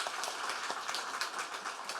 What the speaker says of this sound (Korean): 박수로 한번 환영해 주시죠.